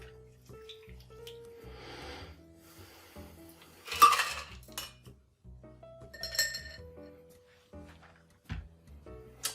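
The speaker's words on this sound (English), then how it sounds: "Grab your wire strainer and your mesh strainer. We're going to double strain into our rocks glass." A cocktail is double strained through a wire strainer and a mesh strainer into a rocks glass: sharp metal and glass clinks and rattles come in scattered bursts, with soft trickling between them, close by and without talk.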